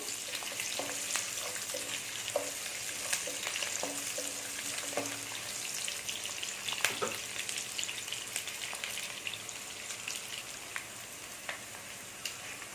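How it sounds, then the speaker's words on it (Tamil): Shallots sautéing in oil for a cashew chicken gravy give a steady, close sizzle and crackle, with stirring scrapes and clicks scattered throughout and no voices. "வெங்காயம் நல்லா வதங்கணும்"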